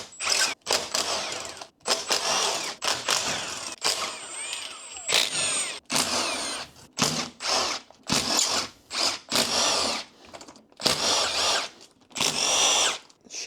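A power tool buzzes in repeated short bursts, one per bolt, as the case bolts come out of a 2017 Yamaha YZ250F engine, with brief pauses and clinks of loose bolts between runs.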